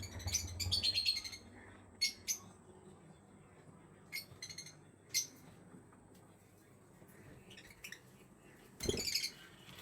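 Pet lovebirds on a balcony give a few sharp chirps and squawks in scattered bursts, some in quick pairs, with quiet gaps between and one louder squawk near the end.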